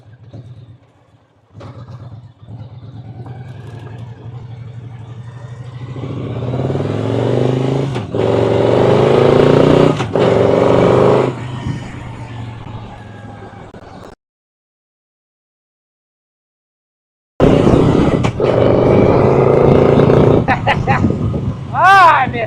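A long-idle Victory motorcycle engine coughs, catches and revs loudly in rising and falling bursts, cuts out to silence, then fires up again with sharp throttle blips while people talk nearby.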